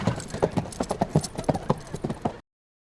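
A ridden horse's hooves clip-clop in a steady trotting rhythm, close and fairly loud, then cut off abruptly.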